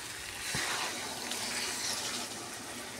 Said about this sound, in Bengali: জল ऐड করে দিচ্ছি।